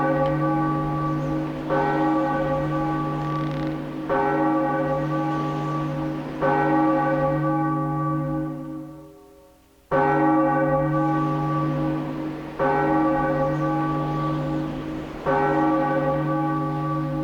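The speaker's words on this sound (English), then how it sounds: "And latch onto that bell." A big bell in The Legend of Zelda: The Wind Waker rings repeatedly, each strike about two seconds apart with a long humming sustain. It fades near the middle before ringing resumes, loud and alone.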